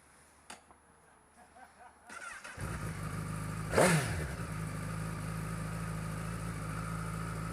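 A Honda CBR1000RR Fireblade motorcycle engine starts up after a quiet stretch, catching with a brief rising rev before settling into a steady, close, continuous idle.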